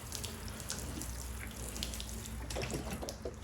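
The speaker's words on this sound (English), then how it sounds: "So now it's time to give them a little water in." Water running onto potted succulent cuttings in potting mix, a steady close splashing flow with a soft trickle throughout, no talk.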